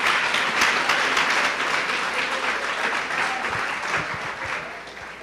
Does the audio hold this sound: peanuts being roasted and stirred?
no